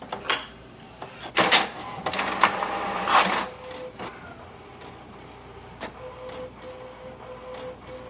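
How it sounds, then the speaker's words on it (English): An HP DeskJet 4300 inkjet printer prints an alignment page: irregular clicks, mechanical whirs and carriage rattles, busiest early on, then quieter motor hums and ticks. "Printer just printed the alignment page."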